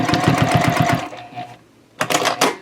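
A sewing machine stitches a tote bag handle near the fabric edge in a loud, close, rapid chattering run that stops, then starts again briefly after a short quiet gap.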